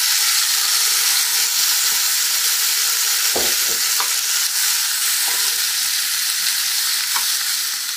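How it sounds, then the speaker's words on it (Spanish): Tomato, onion and garlic fry in a little oil on the stove for a sofrito, giving a loud, continuous sizzle with a few brief clinks and scrapes of stirring midway. "Solo para sofreír el tomate con la cebolla y el ajo."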